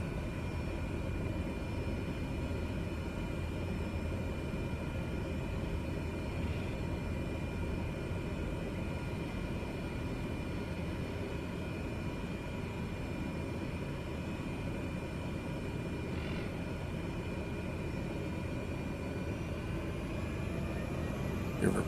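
A small airplane's engine holds a steady, droning roar on the runway before takeoff, loud and continuous from start to end, with a faint voice under it.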